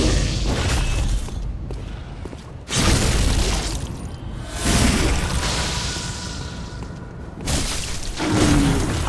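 A visceral riposte attack in Bloodborne, the video game: a sequence of heavy impacts and swooshing bursts, three loud strikes roughly three seconds apart, each with a shattering, booming edge, filling the clip without speech.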